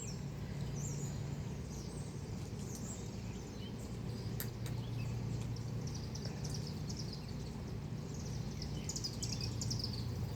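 Faint birds chirp and tweet intermittently in the distance over a steady low background hum, with no talking.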